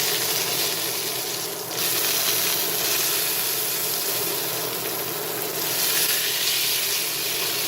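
Moose striploin sears in a hot pan, giving a steady, loud hiss and sizzle that runs throughout, with brief surges as the meat is turned.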